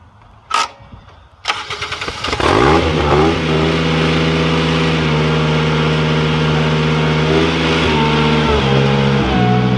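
A Ventrac mower engine cranks, catches and revs up, then holds a steady loud drone at about 3,000 RPM in high grass and weeds, with slight dips in pitch.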